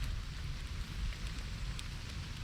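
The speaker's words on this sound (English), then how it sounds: "And here comes the rain again." Rain falls on a poncho shelter at a woodland camp during Storm Ciarán, a quiet, even hiss of drops, heard steadily and alone.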